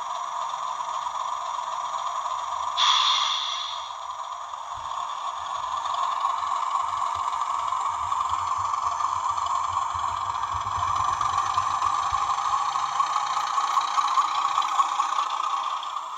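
A Hornby model train runs over a dirty stretch of track, giving a steady motor whine with light, uneven wheel rattling underneath and a brief sharper clatter early on. No one speaks.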